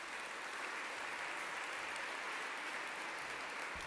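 An audience at a Sydney talk claps continuously in a steady, distant wash of applause, fairly faint and even throughout, with no voices over it.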